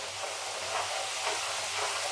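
Sliced garlic potatoes fry in oil over high heat with a steady, close, broadband sizzle that hisses continuously and does not let up.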